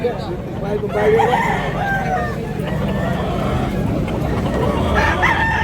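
Rooster crowing at a gamefowl market in Tabunok, Cebu, a couple of calls rising over a busy background of voices and traffic noise.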